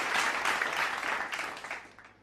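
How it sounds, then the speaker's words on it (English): Applause rings out from the audience at a sustainability hackathon finale in Pune, a dense wash of clapping that gradually fades toward the end. "please give a round of applause to our strategic partners"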